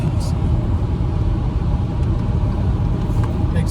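A Subaru Forester cruises along a road, its steady engine and tyre rumble filling the cabin as a continuous low drone with no breaks, loud and even throughout.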